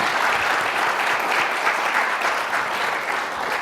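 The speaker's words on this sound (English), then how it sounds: "Give them a warm round of applause" Dense, steady audience applause fills a conference hall after a former Chicago police officer is introduced at a youth and police gathering, loud and continuous throughout with no voices over it.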